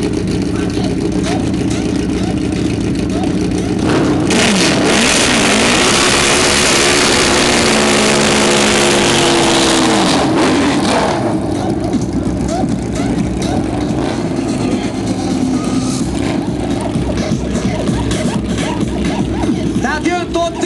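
Turbocharged Suzuki Hayabusa drag bike engine at a drag racing event, a loud rising rev that builds and holds for several seconds over a constant track din, with crowd babble and a commentator talking throughout.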